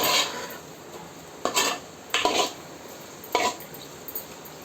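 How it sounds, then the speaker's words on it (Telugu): Chili powder frying in oil in a pan for a raw prawn curry, a soft steady sizzle broken by several brief scraping stirs of a spoon against the pan. "మనకి కారం కూడా నూనెలో ఒక ఐదు నిమిషాలు వేయించుకోవాలండి"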